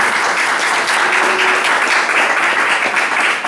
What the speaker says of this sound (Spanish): Os pido un aplauso para animarla.